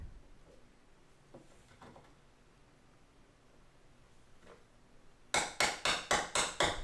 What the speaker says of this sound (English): Try to hammer it in with the other bolt I have, but no luck.